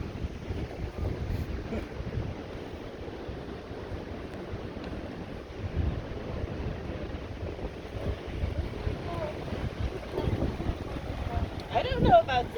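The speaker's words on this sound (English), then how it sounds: "I don't know about this wind." High wind gusting across an outdoor campfire site in New Hampshire, a steady low roar that buffets the microphone and swells in places, with people talking over it.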